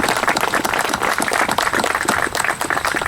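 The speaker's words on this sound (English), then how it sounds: "Can we have another round of applause for the students of Goodland Montessori School?" Audience applause for Goodland Montessori School students at a soil and gardens event, brisk close clapping from a modest crowd with distinct individual claps, steady through the whole stretch.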